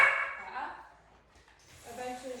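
A few dogs bark in a short burst at the start, then fall quiet, with faint sound returning near the end; nearby chatter and light background noise run throughout.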